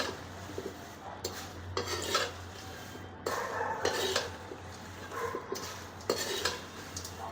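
Thin poha chivda is mixed gently by hand in a metal pan or bowl, with soft rustling, scraping and clinking that comes in repeated bursts close by and fairly quiet.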